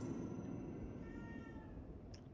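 A cat meows faintly inside the horror video game The Evil Within, a soft, quiet call over a low background hum.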